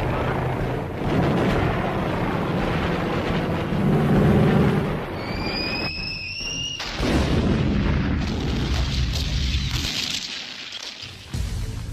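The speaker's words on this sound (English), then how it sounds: "Overhead, Marine corsairs tore up the enemy line, destroying vehicles and supply lines." Marine Corsair aircraft attacking an enemy line during the Korean War: heavy booming explosions and rumbling blasts, with a whistling, descending tone midway. The sound is loud and layered in an archival battle scene.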